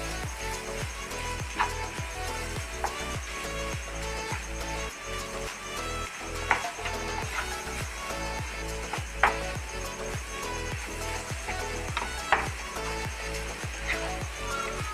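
Prawns are stirred into masala in a pan for a prawns roast, making a steady scraping and rattling of the spoon against the pan under a constant low sizzle for the whole stretch.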